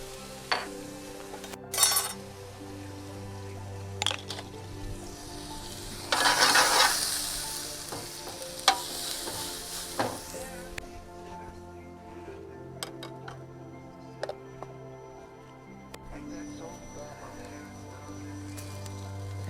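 Garlic sizzles in a pan inside a Forno de Pizza oven, a steady frying hiss with a loud burst as it hits the hot pan, plus occasional clinks and stirring.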